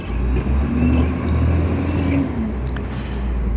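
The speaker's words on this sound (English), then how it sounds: "I got a garbage truck coming through the area." A garbage truck rumbles steadily past at close range, its deep engine drone filling the whole stretch with a faint whine above it and no talking.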